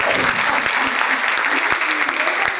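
A crowd at a literature conference in Las Varillas applauds steadily, a dense wash of clapping with a few sharper nearby claps standing out.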